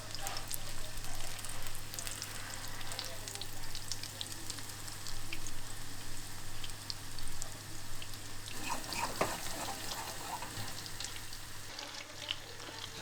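Breadcrumb-coated chicken fries in a pan, a steady, quiet sizzle and crackle that runs continuously, with occasional soft clicks and shifts as the pieces are handled, no talking.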